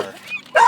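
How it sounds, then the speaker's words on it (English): A dog barks once in a deep, hound-like bay, a short loud close call after a quieter whimpering lead-in, with no talk over it. "Kind of sounds like a hound dog."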